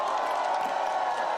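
At a political rally for Lee Jae-myung, a crowd claps and cheers in a loud, continuous roar with a few whoops. The sound is short and unbroken and carries no clear speech.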